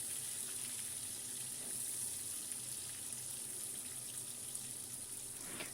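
Vegetables frying in plenty of mustard oil in a kadai, a steady soft sizzle that holds evenly throughout, close and fairly quiet with no talk.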